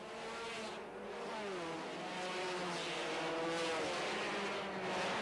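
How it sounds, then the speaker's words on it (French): Onboard a 1989 Procar division 2 touring car with free exhaust racing at Zolder, a loud steady engine drone rising in pitch as it accelerates through a chicane, no voices. "Nous sommes à bord de la voiture d'Éric Bachelard qui dépasse ici son coéquipier Michel Dedain dans la chicane"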